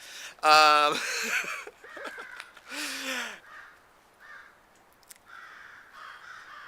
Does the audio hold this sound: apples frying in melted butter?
no